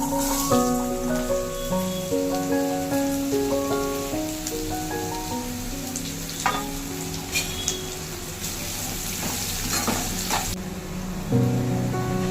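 Carrots sizzle and hiss as they stir-fry in oil after a tempering, a steady crackle with a few louder spatters, soft music playing in the background.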